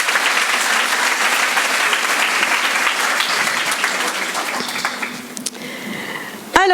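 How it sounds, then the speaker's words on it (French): Applause from parents and families at a school fête, steady dense clapping from a sizeable crowd that tapers off near the end before a sudden louder bump. "Vous pouvez les applaudir."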